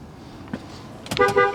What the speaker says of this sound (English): Honk works.